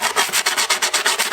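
A hand file rasps along the edge of skateboard grip tape, stroking outward in a steady run of about eight quick, close strokes with no talking.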